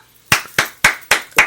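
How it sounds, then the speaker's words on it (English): Five sharp, evenly spaced hand claps ring out close and loud, one roughly every quarter second, each with a brief decay and nothing else in between. "Clapping."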